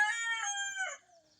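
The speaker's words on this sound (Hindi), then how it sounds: "मुर्गा बहुत शोर कर रहा है" A rooster crows once, loud and close, a drawn-out harmonic call that breaks off near the end and fades into quiet.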